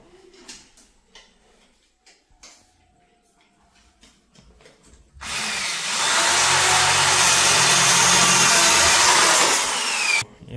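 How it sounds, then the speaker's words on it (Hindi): A power drill bores into a lock, starting abruptly after a stretch of quiet handling noises and then running as a loud, steady, whining grind for about five seconds before cutting off. "लॉक यहाँ पर ड्रिल करने वाले हैं"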